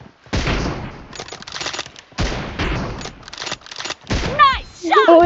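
Gunfire in a team deathmatch match of a mobile shooter game, loud repeated bursts of shots separated by brief gaps, ending with game effect sounds.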